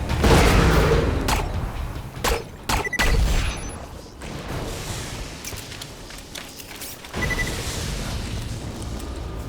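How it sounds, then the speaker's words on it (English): Detonations crack through a Borderlands 2 shooter fight, a burst of loud booms and sharp impacts in quick succession, then a quieter lull before another heavy blast rumbles in. "Detonate that."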